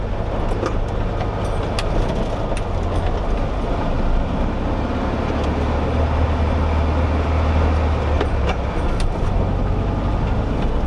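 A 1964 VW Bug Class 11 race car drives over dirt, its steady low engine drone and rumbling road noise continuous and fairly loud throughout, with occasional clicks and rattles.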